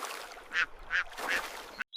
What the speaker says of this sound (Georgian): შეხედეთ, იხვები წყალზე ცურავენ.